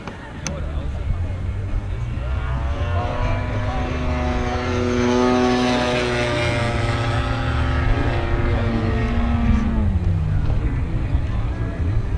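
A propeller-driven RC model aircraft drones steadily at an outdoor airshow, its engine tone sliding in pitch as it passes, with crowd chatter and voices running underneath throughout.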